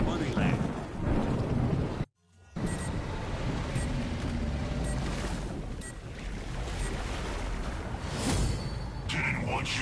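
In the video game Killing Floor 2, steady rain hisses and thunder rumbles. The weather sound holds loud and continuous, broken by a sudden brief silence, while voices talk over it.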